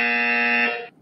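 A buzzer sound effect gives one loud, steady electronic tone lasting nearly a second, then cuts off abruptly into silence.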